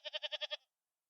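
A goat bleats in a quick run of six pulsed, wavering calls, close and clear, then stops, with no talking.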